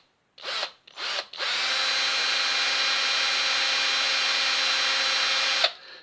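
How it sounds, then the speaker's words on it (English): Power drill spinning a bit while fitting electronic ignition, two short bursts followed by a long steady whirring run of several seconds that stops abruptly, close and loud with no speech. "This is one of those special drill bits that doesn't do any drilling. It just kind of turns around."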